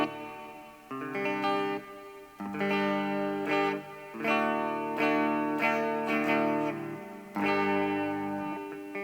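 Distorted guitar chords ring through a reverb effect played on small two-inch speakers, several sustained strums in a steady pattern, each tail washing out before the next.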